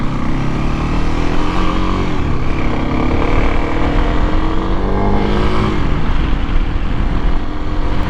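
A Kawasaki KLX 300SM supermoto motorcycle engine on a test ride, loud and close, revving with rising and falling pitch as it pulls through gears under steady wind roar.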